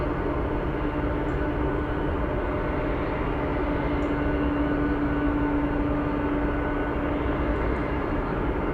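A Boeing 747 Dreamlifter taxis at Anchorage airport, its engines giving a steady, loud, broad roar with a faint whine, and no talk over it.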